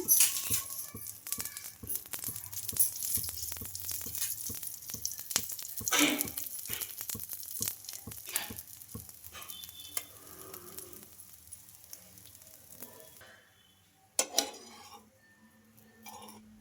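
Carrot masala dosa sizzling as oil is added on a hot pan, a steady close frying hiss with scattered clinks of utensils, fading quieter toward the end.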